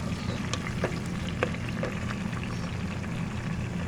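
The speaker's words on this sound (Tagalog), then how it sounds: "Bakit kaya pag ginigisa yan guys ay napakabango, pero pag yung kakainin na ay hindi na." Tomatoes sauté in a hot pan with a dense, continuous sizzle and frying crackle, with a few brighter pops and scrapes over a steady low rumble.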